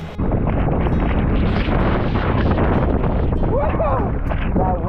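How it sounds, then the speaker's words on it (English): Steady broadband wind roar on a Hawaiian surf beach, loud and continuous across the whole stretch, with people calling out faintly over it near the end. "That wind is fun."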